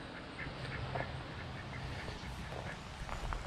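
Ducks quacking at a farm where hay is being set out for livestock, short scattered calls over a steady low rumble of background noise, moderately near and fairly quiet, with no talking.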